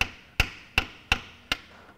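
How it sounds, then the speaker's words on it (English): A hammer taps during piston removal on a Ferguson TEA20 tractor engine and accidentally hits the camera: five sharp, close, evenly spaced knocks with brief ringing decays. "Whoop, and hit the camera with the hammer."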